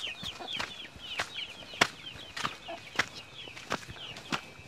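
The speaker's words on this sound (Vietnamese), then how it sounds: "Đây có một đàn gà này, như kiểu gà trọi ấy nhờ gà này ấy" A flock of crossbred fighting chickens on a rural property, clucking and calling repeatedly nearby with sharp irregular bursts over a quiet background.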